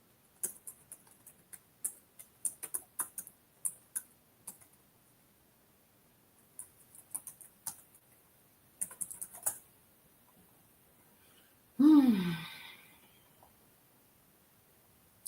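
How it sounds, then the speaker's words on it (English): Rapid bursts of typing on a computer keyboard, clustered keystrokes with short pauses between runs, close and clear in a quiet room, followed near the end by a brief louder rustle or scrape. "Sometimes I get so excited and I'll type right over."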